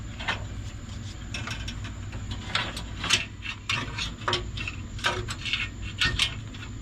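A wrench ratchets in quick, light clicking bursts while an exhaust goes onto a 3rd gen Cummins, the clicks close and fairly faint over a low steady hum.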